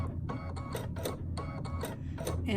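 Luminaire computerized quilting machine stitching, a quick, even mechanical patter of needle strokes in short bursts, moderately close and fairly quiet.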